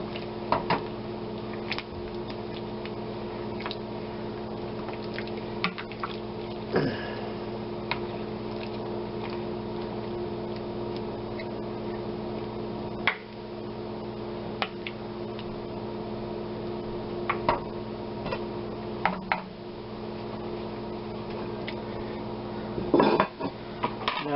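A pot of Irish pork stew gets peas and parsley stirred in, with sparse spoon clinks and scrapes against the pot over a steady low kitchen hum.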